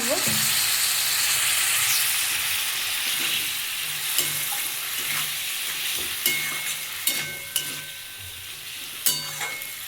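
Okra and potato sizzle in a pan with spices and a splash of water, an even frying hiss overlaid by a string of sharp spatula taps and scrapes as the mixture is stirred.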